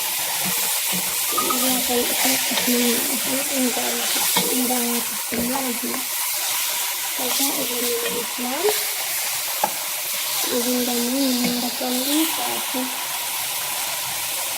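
Chicken frying in a covered pot, with a steady loud sizzle and hiss running throughout while a voice talks over it.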